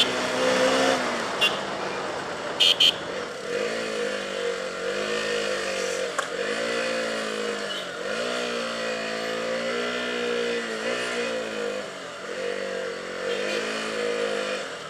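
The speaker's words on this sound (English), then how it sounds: "I don't really like the noise of this bike." KTM Duke 200 motorcycle ridden through traffic in Kathmandu, its small single-cylinder engine whining steadily up close, pitch climbing and dropping with each gear change and throttle swell, with a few faint clicks in the background.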